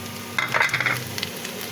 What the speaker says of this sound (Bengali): কালো জিরাটা ঢেলে দেবো তেলের উপরে